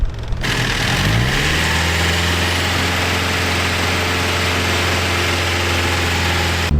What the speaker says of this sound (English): So we'll let it keep idling, see what it comes up to for temperature